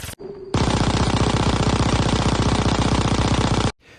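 Sustained hip-fire bursts from the Vesper and Thompson M1928 in Call of Duty zombies: a loud, steady, rapid stream of shots lasting about three seconds, close and alone, then cut off abruptly.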